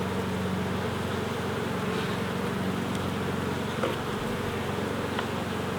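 Honeybees swarm around an open hive during an inspection, a steady, dense buzzing drone that stays close and constant throughout, with no talking.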